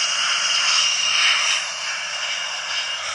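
Steady, loud roar of a jet airliner climbing after takeoff, a broad continuous whoosh heard from inside or nearby, easing slightly toward the end, with no talking.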